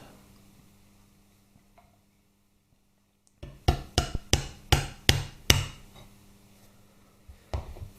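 After a quiet start, a hammer taps a roll pin into a part of a Harley-Davidson Twin Cam 88ci engine during a rebuild, about seven sharp metallic blows in a quick series, then a pause and two more, close and loud.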